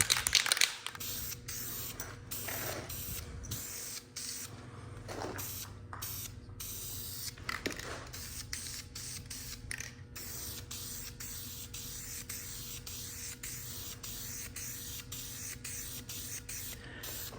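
A cleaned transmission pan from a big-block Suburban being spray painted in a pole barn garage: a close, continuous aerosol hiss in long bursts with short breaks between passes, no talking.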